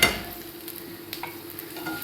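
Onions with ginger-garlic paste in a frying pan: a soft, steady sizzle with faint stirring scrapes and small clicks, quiet and close, with no talk.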